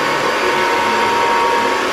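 A hair dryer blows heat onto a lace closure wig, giving a steady, loud whooshing motor hum that runs unbroken and alone throughout.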